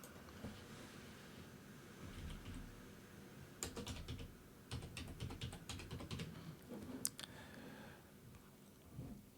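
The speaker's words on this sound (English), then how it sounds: "I'll type in my national identity number." Keys clatter on a computer keyboard as an ID number is entered into an online visa form, with quiet patches of soft taps building into denser bursts of clicks, close and moderately loud with no talk.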